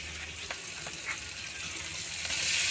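Onion frying in hot oil in a home kitchen, a steady close sizzle with a few soft stirring knocks, growing slightly louder toward the end.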